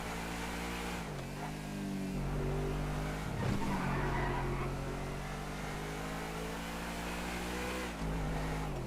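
A sports car in GTA Online runs laps around a custom-built race track, its engine droning steadily with gear shifts and rising and falling revs, loud and continuous with no talking.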